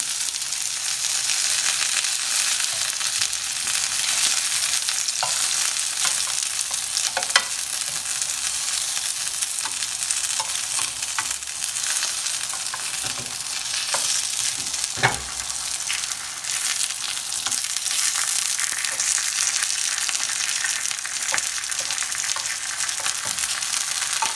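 Pork gyoza dumplings pan-fry in a hot pan, a dense, steady close sizzle that runs throughout, with a couple of faint knocks and no voices.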